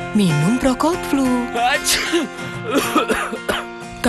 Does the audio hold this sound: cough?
yes